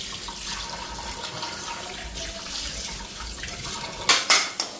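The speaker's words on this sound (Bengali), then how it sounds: "একটার মধ্যে একটু একটু করে ধুইতাছি, আর একটার মধ্যে জল নিলাম" Food being washed by hand in a bowl of water in a home kitchen, with steady watery swishing and trickling that ends in a few louder, close splashes; no one speaks.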